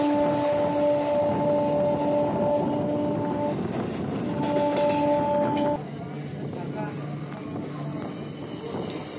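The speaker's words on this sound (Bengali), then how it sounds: "আমাদের ট্রেন এখন চুঁচুড়া ছেড়ে চলে যাচ্ছে" A Howrah-Bandel local train pulls out of Chinsurah station with a loud, steady rumble, and a long two-tone horn blares twice before the noise settles into quieter rolling.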